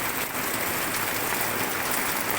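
Dense, even hiss of heavy rain pouring down during a storm at an outdoor cooking spot, loud and unbroken with no voices, as if drumming on a nearby tarp or roof.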